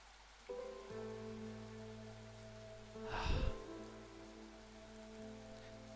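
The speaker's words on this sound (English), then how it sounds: "I like the sound of rain." Rain falls steadily in the video game Against the Storm, a soft continuous wash beneath sustained musical tones, swelling briefly into a louder burst near the middle before settling back.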